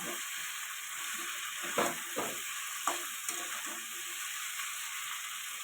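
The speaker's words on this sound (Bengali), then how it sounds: "এবারে মাছগুলো দিয়ে দেবো দিয়ে একটু নেড়ে ছেড়ে অল্প করে জল দিয়ে দেব" Kajal gauri fish pieces are stirred into a frying spice paste, with a soft steady sizzle and a few scraping, clattering stirs of a utensil in the pan, fairly quiet and close.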